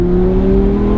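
A mid-engine Audi R8 V10 Plus with 602 brake horsepower, in sport mode, gives a loud, steady engine drone with strong harmonic tones during a brief burst of acceleration. No voices are heard.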